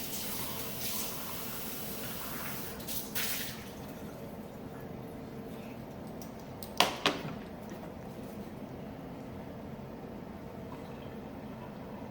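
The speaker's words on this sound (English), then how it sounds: "Let me rinse that out." Kitchen tap water rushing steadily while something with egg residue is rinsed out during cake baking, a hissing flow for a few seconds before it cuts off, leaving a quiet room with a couple of faint knocks.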